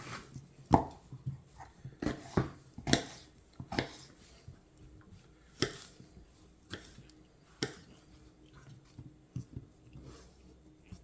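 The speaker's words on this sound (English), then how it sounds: "get these all chopped up" Habanero peppers being chopped with a knife on a cutting board for pineapple habanero hot sauce, a series of irregular, close, sharp knife taps and thuds spaced unevenly across the clip.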